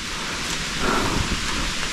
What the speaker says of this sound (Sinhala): මේ වියන් හින්දා අපිට වැස්ස සැරට පහළට එන්නේ නැහැ.